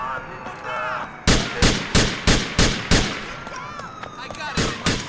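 Gunfire in the video game GTA 4: a rapid series of sharp, loud shots in an uneven burst, then a couple more after a pause, with game ambience and faint tones between them.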